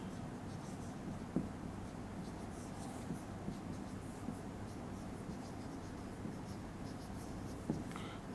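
Chalk or marker scratching on a classroom board during a physics lecture on Young's double-slit experiment, with faint scattered strokes and taps under steady room hiss, no talking.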